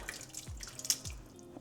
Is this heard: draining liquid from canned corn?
yes